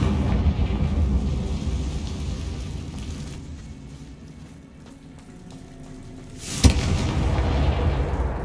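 A Confringo blasting spell explosion in the video game Hogwarts Legacy, a heavy rumbling boom with a sharp crack near the end, over a continuous roaring background.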